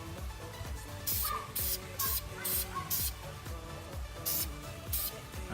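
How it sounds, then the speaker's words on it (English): Short bursts of aerosol spray paint hiss in a quick irregular series for a test spray in a home hydro dipping project, each burst bright and close over a busy background of music. "Do a little test spray."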